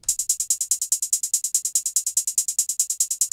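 Programmed hi-hat playing steady fast notes, every other hit lower in velocity, in a trap-style beat: a crisp, even ticking pattern of about two dozen hits, alone and close.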